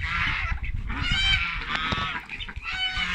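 Turkeys on a small poultry farm call with loud, rough honking gobbles during a morning release of the birds, several calls overlapping continuously and close by.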